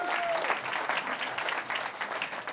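An audience applauds, a dense, steady wash of clapping throughout the short stretch.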